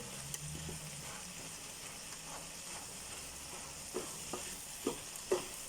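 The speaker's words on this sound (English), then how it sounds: "So it's a case of keep stirring on this one" Vegetables and olives are stirred in a sizzling pan, a soft continuous frying hiss broken by several light scraping knocks of the spoon that grow more frequent toward the end.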